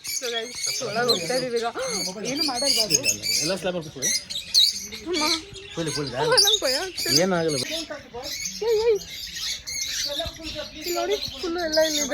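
Many birds chirp and squawk together in a busy, overlapping chorus, close and lively, with a voice occasionally heard among them.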